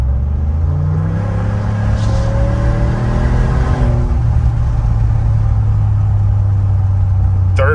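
A tuned 2021 Ford F-150 pickup's engine rumbles loudly from inside the cab, rising in pitch under kickdown acceleration, then settling into a steady heavy drone as it pulls through the gears.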